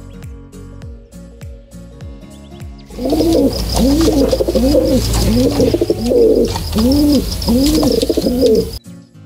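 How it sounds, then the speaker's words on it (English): A pigeon coos repeatedly in a steady rhythmic series of soft, throaty calls, close and fairly loud, following a few quieter knocking sounds. "鸽子鸽子 pigeon pigeon"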